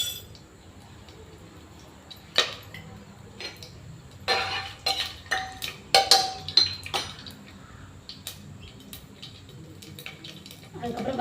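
Mustard seeds pop and crackle in hot oil in irregular sharp bursts over a quiet background, close and fairly faint.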